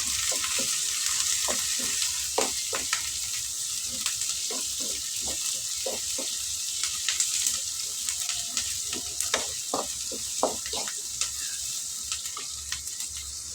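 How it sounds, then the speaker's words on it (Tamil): Green chilies and curry leaves sizzle steadily in a hot pan for an Indian bean-and-egg stir-fry, a constant bright crackle broken by repeated clicks and scrapes of stirring, close and fairly loud, with no voices. "இப்போ பச்சை மிளகா போட்டுப்போம் அப்படியே கொஞ்சம் கருவேப்பிலை நல்லா அது வரையும் வரட்டும்"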